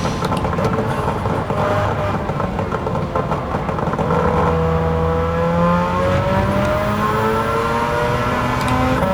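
Racing engine sound from a 1991 Suzuki Cappuccino fitted with a Mazda 13B rotary, lapping Kyoto Circuit in Gran Turismo 7: steady loud high-revving drone with rising and falling pitch sweeps through gear changes, other cars passing nearby.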